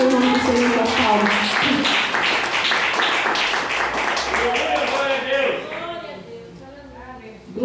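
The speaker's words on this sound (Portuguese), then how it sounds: "Pode agradecer o nome do Senhor com as palmas" A church congregation claps hands in praise, a close, rhythmic patter of clapping mixed with voices that gradually thins and fades away toward the end.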